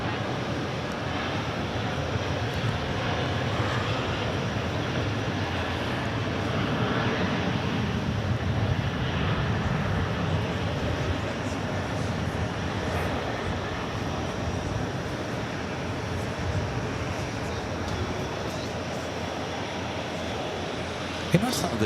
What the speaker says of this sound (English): 787-9 Dreamliner rolling down the 22 right.